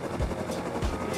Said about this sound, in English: This is a heli scout the clan is using to try and find other people on the map to kill.